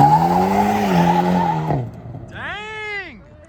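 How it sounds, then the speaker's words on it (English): A Mercedes C63 AMG 507 Edition launches hard with a loud, deep engine roar. The roar cuts off, and a brief, shrill tire squeal rises and falls. "Let's see how good this car is at launching."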